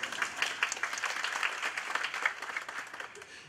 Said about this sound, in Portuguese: Palmas para ela, pessoal